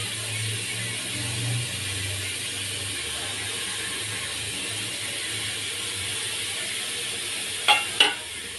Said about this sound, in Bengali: আমার পেঁয়াজটা রসুনটা ভাজা ভাজা হয়ে এসছে, আমি দিয়ে দেবো সবজিটা।